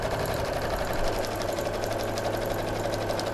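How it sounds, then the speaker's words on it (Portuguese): Domestic sewing machine stitching free-motion quilting waves for a simple zipperless fabric pouch, running in a steady, continuous mechanical hum with a fast rhythmic clatter, close and moderately loud throughout. "Eu vou à máquina agora fazer um quilting livre aqui"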